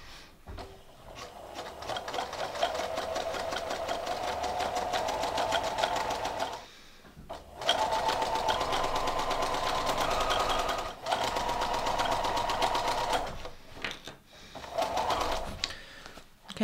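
A sewing machine stitches steadily along a folded cuffed hem on dress pants using the free arm, fast and close. The rapid whirring runs in several long bursts broken by short pauses and there is no talk.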